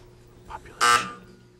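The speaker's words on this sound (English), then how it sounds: "Buzzer sounds." A short electronic buzzer on a high school quiz show blares once, loud and harsh, preceded by a brief softer tone, then fades into quiet room noise.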